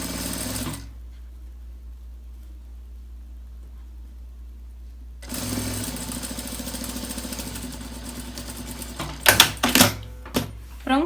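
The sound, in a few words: domestic sewing machine stitching fabric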